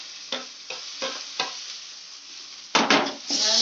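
Tomatoes and green chillies frying in a spice mix, with four short stirring scrapes over a soft sizzle, then a louder burst of sizzling and scraping near the end.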